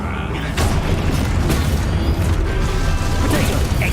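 The Confringo blasting spell in Hogwarts Legacy goes off in a loud, dense booming explosion with crashing rumble, several sharp bursts over a continuous roar, and a voice talking over it.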